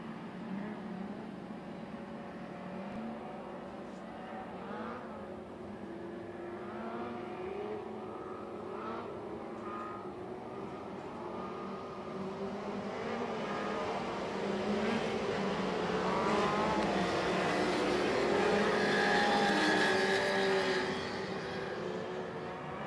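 Northern Lightning Sprints sprint cars race on a dirt track, engines droning and rising steadily as the pack builds speed, a loud continuous roar that swells toward the end with no talk over it.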